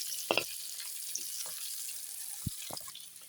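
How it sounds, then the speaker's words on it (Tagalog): Meat sizzles softly in a hot pan with bottle gourd sautéing, broken by a few clanks and scrapes of a utensil stirring, close and fairly quiet with no voices. "i-mix-mix na natin lahat"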